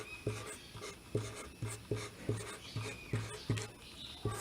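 Chalk or marker writing on a board during a lecture, a series of about ten soft, evenly spaced taps and strokes close by, with no talk over them.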